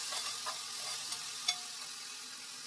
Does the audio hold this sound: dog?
no